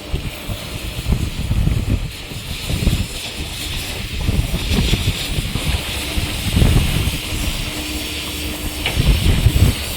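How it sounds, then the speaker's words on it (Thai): Strong wind blows across a reservoir under repair, where rock, earth and steel work is under way, roaring and buffeting the microphone in loud, gusting surges with no break. "ลมแรงเหลือเกินครับ"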